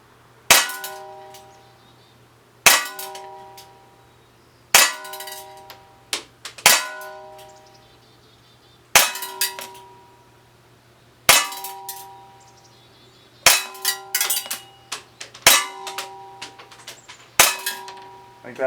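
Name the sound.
Crosman C41 CO2 BB pistol shots hitting target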